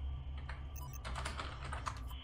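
Quick, steady clatter of keys being typed on a computer keyboard, fairly close and continuous with no talking, over a low background hum.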